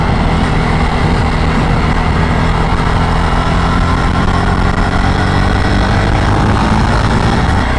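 A Jawa Perak motorcycle at speed on an open road, nearing 100, its engine a steady, loud, continuous drone under heavy rushing wind noise with no talking.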